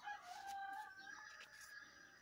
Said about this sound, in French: Le coq qui m'accompagne, j'adore.